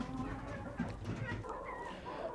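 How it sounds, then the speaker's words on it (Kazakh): Brahma chickens in a farmyard pen in the morning, soft low clucking and murmuring from the flock, faint and continuous against a muffled background, with no clear talk. "Брама тауықтарымызға да келіп жеттік."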